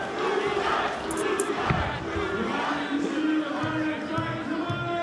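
A partisan crowd at a Karate Combat event roars and cheers steadily throughout, a dense, continuous wall of arena voices with occasional louder surges.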